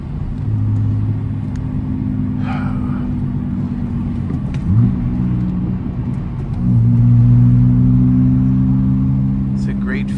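A freshly rebuilt car engine hums and rumbles steadily while driving on the road, with a couple of gear changes and a rise in revs near the end, heard from inside the cabin.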